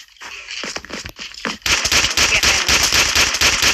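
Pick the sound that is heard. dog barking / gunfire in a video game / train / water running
gunfire in a video game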